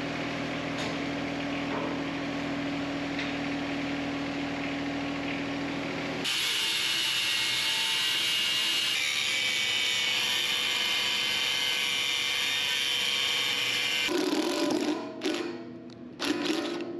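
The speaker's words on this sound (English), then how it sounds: "I used the combination of angle grinder to get a clean cut" Angle grinder cutting through a steel worktable leg, a loud continuous high-pitched whine that shifts pitch partway through as the disc bites, then sputters and cuts out near the end with brief bursts.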